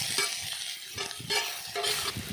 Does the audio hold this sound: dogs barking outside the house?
no